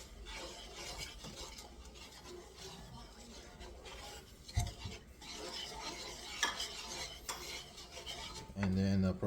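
Spoon scraping and clinking against a pot while stirring maja blanca coconut pudding mixture, steady scraping and stirring throughout with a few louder knocks near the end.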